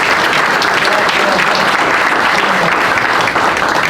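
Loud, steady applause from a crowd at a public announcement of a million-dollar safety grant, honoring U.S. Attorney Richard Moore, continuous and dense for the whole stretch with no pauses.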